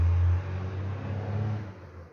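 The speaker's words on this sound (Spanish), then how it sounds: "Motoneta." A motor scooter goes by close, its low engine hum loud at first and then fading as it moves away.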